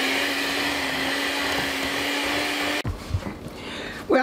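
Electric mixer churning pimento cheese, a steady loud motor whine for nearly three seconds that abruptly stops, followed by softer clattering and bowl scraping.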